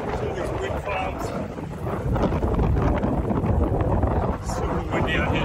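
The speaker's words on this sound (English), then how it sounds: "Super windy out here today." Strong wind of about 50 to 60 km/h gusts across the east side of Gran Canaria, buffeting the microphone with a loud, continuous roar that surges midway, while a person talks over it.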